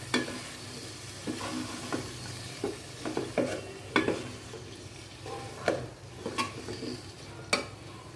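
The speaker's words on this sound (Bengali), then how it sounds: "এখন আমি লতিগুলোকে ভালোভাবে একটু মিক্স করে নেব।" Taro stolons (lati) being mixed in a pan, with a soft sizzling bed punctuated by repeated sharp clinks and scrapes of a utensil against the pan at an uneven rhythm.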